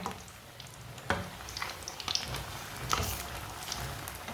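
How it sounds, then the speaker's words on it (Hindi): Egg balls frying in hot oil for anda balls, a steady crackling sizzle with scattered sharp pops and a few louder bursts, close and fairly quiet with no voices. "देख के फ्राई करना है, टूटने ना पाए"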